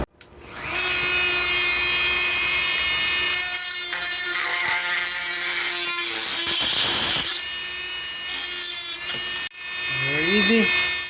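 A Dremel rotary tool cuts through plastic at reduced speed, a close, steady, buzzing whine with a harsher grinding rasp as the bit bites in, and short dips and surges before it spins back up.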